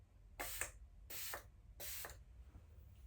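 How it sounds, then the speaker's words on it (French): Three short, soft hissing bursts of a fine, diffuse mist spray from a protective repair product, evenly spaced and close by, with quiet pauses between them. "Donc c'est un spray très fin, très diffus."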